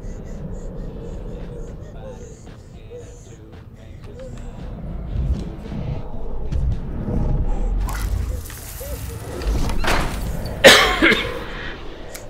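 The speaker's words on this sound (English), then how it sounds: "Apologies for the cough, I'm a little sick." A person gives a single sharp cough near the end, close and fairly loud, after a stretch of low rumbling gameplay sound from Beyond: Two Souls.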